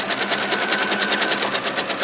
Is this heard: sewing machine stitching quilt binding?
yes